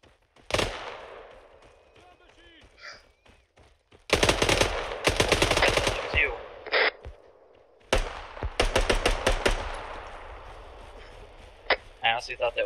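Bursts of automatic and single-shot gunfire in the video game Arma 3 crack out in several loud clusters, separated by quieter gaps with distant reports and faint ambient sound.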